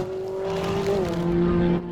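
A small 500cc race car at Kirkistown circuit holds a steady, loud engine note through a lap, pitch dipping slightly as it shifts, with no talk over it.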